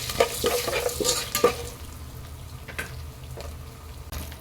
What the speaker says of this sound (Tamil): கொஞ்சமா மஞ்சத்தூள், பெருங்காயத்தூள் கொஞ்சம், இதையும் நல்லா வறுத்துடலாங்க